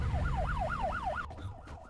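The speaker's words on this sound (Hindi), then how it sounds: "ये तो पुलिस का सायरन है।" Emergency vehicle siren in a Hindi action movie scene, a rapid rising-and-falling wail repeating about five times, fairly close and loud, cutting off abruptly partway through.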